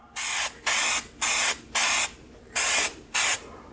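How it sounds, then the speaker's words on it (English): Aerosol prep chemical sprayed onto car trim in six steady bursts of roughly half a second each, evenly spaced with short gaps, close and fairly loud with no talking. "this is just a prep chemical I'm going to use to spray this with"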